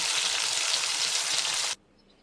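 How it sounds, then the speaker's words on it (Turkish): Loud, steady sizzling of potatoes frying in hot oil, cutting off abruptly near the end to near silence. "Azıcık onları da kızartıp ocağı kapatacağım."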